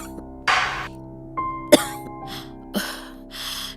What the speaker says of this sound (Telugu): నీకు సడన్ గా ఎందుకు ఇంత దగ్గు వస్తుంది?